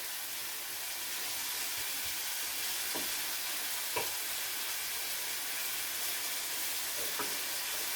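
Steady, dense sizzling of chicken frying in a hot Tefal skillet, with a few faint clicks and taps over the constant crackle.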